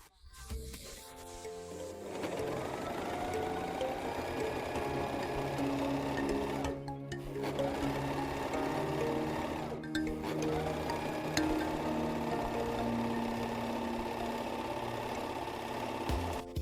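A sewing machine stitching jersey fabric with a jersey needle runs steadily for about fifteen seconds, a close, continuous mechanical whir and hum with two brief pauses where the motor stops and restarts.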